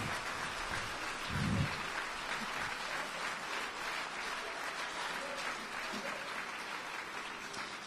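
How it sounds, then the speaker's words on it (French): An audience at a charity concert applauds steadily, a soft continuous patter of many hands heard from a distance, with a brief low thump partway through. "Et je voudrais vraiment, s'il vous plaît, que vous les applaudissiez"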